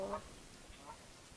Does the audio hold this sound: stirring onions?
no